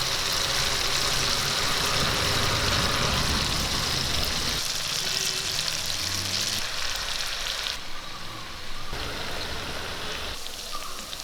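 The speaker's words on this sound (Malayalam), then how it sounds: "അച്ചാറിന് വേണ്ടി ചിക്കൻ വറുത്ത്" Loud, continuous sizzling of chicken frying in hot oil, a dense crackling hiss that eases slightly in the second half.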